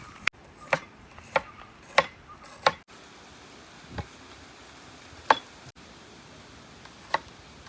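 A knife slices vegetables into rounds for pickle, a handful of sharp separate chops falling at an uneven pace against a quiet kitchen background.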